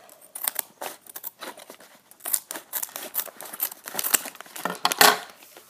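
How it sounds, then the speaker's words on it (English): Scissors snip open the top of a cardboard Lego Mixels package in a quick run of close, crisp cuts, with papery crinkling between the snips and a louder cut near the end. "I'm just going to cut open the top."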